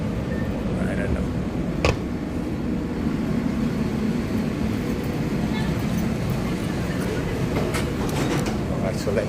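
Steady rumble of a train inside or beside a station, continuous and fairly loud throughout, with a few brief sharp clicks or squeals over the low roar.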